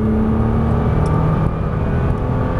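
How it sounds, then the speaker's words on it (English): A Nissan GT-R accelerating down a racetrack straightaway, heard from inside as a steady, loud engine drone with a rising whine that holds for under three seconds. "Go ahead and accelerate. Straight down the straightaway here."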